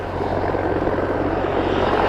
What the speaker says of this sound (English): so let's see which way this helicopter is going to go